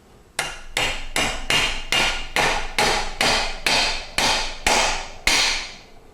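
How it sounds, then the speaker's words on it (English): A hammer drives a roll pin into the shift lever of a Ford-version Tremec T5 transmission, eleven evenly spaced metallic blows ringing close and loud, each decaying quickly before the next strike. "and then hammer the roll pin in"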